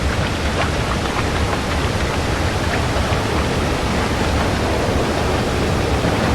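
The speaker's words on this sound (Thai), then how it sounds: "ถ้าอย่างนั้นเราต้องปล่อยให้น้ำไหลลง" Rushing water pouring down in the dark platform game Limbo on iOS, a steady, loud, unbroken wash of broadband noise like a heavy waterfall, with no speech over it.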